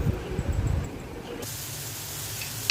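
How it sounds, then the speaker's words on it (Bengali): Chopped onion and garlic sizzling in hot oil in a pan, a steady close hiss that begins partway through and continues evenly, alone without talk. "তেলের মধ্যে পেঁয়াজ কুচি, রসুন কুচি দিয়ে দিয়েছি"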